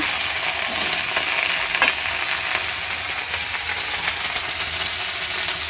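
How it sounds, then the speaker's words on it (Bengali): Vegetables frying in hot oil with panch phoron and dried chillies, a dense continuous crackling sizzle, close and loud, with faint stirring taps and no voices. "প্রথমে একটু তেল দিয়ে পাঁচফোড়ন আর শুকনো লঙ্কা দিয়ে সব আনাজগুলো একটু ভেজে নিচ্ছি"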